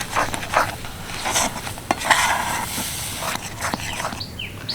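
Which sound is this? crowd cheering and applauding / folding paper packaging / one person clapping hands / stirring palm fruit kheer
stirring palm fruit kheer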